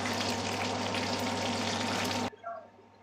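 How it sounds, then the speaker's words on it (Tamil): Marinated fish frying in hot oil, a loud, steady broadband sizzle that runs close and unbroken for over two seconds, then cuts off abruptly into quiet with a faint clink. "நல்லா எண்ணெயை காய விட்டு போட்டு பொறிச்சு எடுத்துடலாம்"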